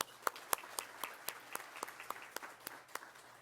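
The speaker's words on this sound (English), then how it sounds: "Everyone, applaud louder." Sparse, scattered applause from a crowd, individual claps distinct and fairly faint, with no talking over it.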